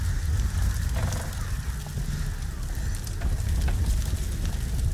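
A horse-drawn cab burns after an explosion at a lamp shop on a street in the Sherlock Holmes: The Devil's Daughter game, giving a steady, close crackling and hissing fire with no voices.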